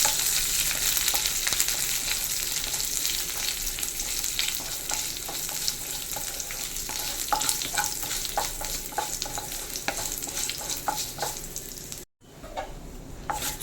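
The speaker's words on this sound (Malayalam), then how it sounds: "ഇതെല്ലാം ഒന്ന് എണ്ണ കിടന്ന് ചെറുതായിട്ടൊന്ന് മൂക്കട്ടെ" Steady, loud sizzling of dried chilies, curry leaves and mustard seeds frying in oil, a dense crackling hiss with small pops throughout and a brief dropout near the end.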